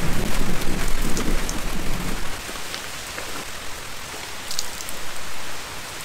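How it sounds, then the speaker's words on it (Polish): Heavy rain roars steadily in a thunderstorm in the Tokaj region of Hungary, with a low rumbling of thunder in the first couple of seconds before the downpour continues alone. "Dopadła nas burza. Chyba zresztą to słychać."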